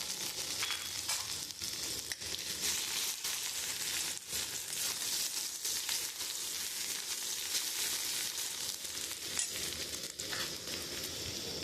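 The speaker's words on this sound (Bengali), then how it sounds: "আমি এই তেলের মধ্যে তেজপাতা কালো জিরে আর শুকনো লঙ্কা ফোরম দিয়ে দেবো এর মধ্যে আমি আদা কুচিটা দিয়ে দেবো" Bay leaf, black cumin, dried chilli and chopped ginger sizzle in hot oil, a dense steady crackle and hiss that holds for the whole stretch with a few sharper pops, no voices.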